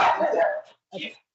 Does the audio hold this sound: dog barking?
yes